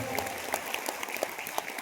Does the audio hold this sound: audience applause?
yes